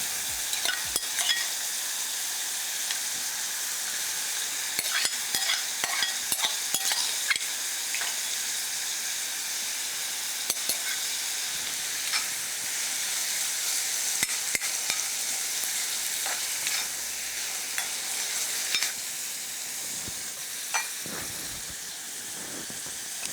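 Onion and garlic sizzle and fry in a pan for a Haitian-style dish, a continuous close hiss with crackling pops and occasional stirring scrapes, no talking.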